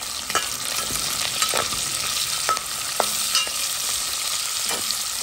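Onions sizzling loudly in a pan for a Réunion-style rougail, a dense constant frying hiss broken by repeated scraping and tapping of a spoon as they are stirred, near and without speech.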